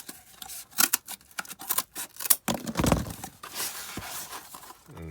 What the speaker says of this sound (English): Quick snip across.